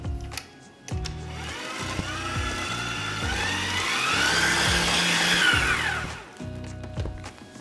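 A KitchenAid stand mixer whirs steadily through blondie batter, its motor pitch rising and falling, while rhythmic thumps from the bowl and beater sound underneath; the mixer stops near the end.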